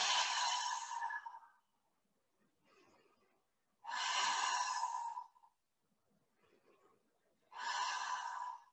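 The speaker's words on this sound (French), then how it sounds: "On fait quelques respirations avec son centrage" Slow, deliberate breaths during a Pilates centering exercise: three long audible exhalations at even intervals, separated by quieter inhalations, close and clear in a quiet room.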